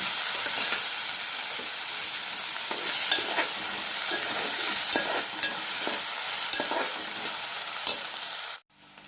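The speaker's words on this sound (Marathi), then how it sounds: "आता टमॅटो टाकून घ्यायचं कढाई व्यवस्थित परतून घ्या" Tomatoes with ginger-garlic paste sautéing in a kadhai, a continuous bright sizzle broken by sharp spatula scrapes and taps, ending abruptly in near silence.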